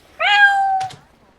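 A person imitates a cat, giving one clear, close, drawn-out meow with a short breathy tail.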